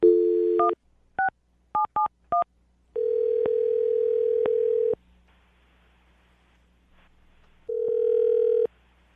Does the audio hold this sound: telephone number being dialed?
yes